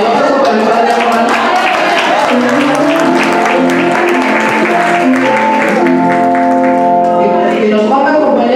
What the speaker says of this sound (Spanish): Un aplauso para el padre Román